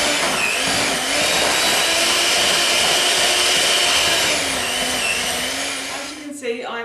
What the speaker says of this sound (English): now what I'm going to do is I'm going to cream the butter and the sugar together